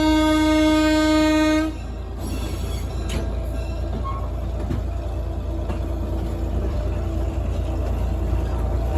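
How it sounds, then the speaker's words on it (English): A heritage train's horn sounds one long, loud harmonic blast for a grade crossing, then cuts off, leaving the steady rumble and rattle of the moving rail car alone. "We do have to keep blowing the horn for those grade crossings."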